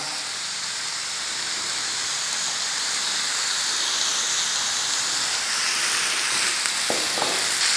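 Meat frying in a pan with powdered broth, ground pepper, salt, a little sugar, oyster sauce and a splash of water, giving a loud, steady sizzle and hiss throughout, with a couple of faint knocks near the end.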